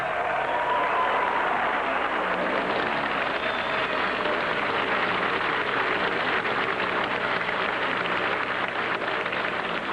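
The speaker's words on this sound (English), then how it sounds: "he drives around the track to the enthusiastic cheers of the crowd" A crowd at a 1975 snowmobile race in Eagle River cheers and applauds, a dense, continuous roar of clapping and voices that stays loud and even throughout, heard from within the throng.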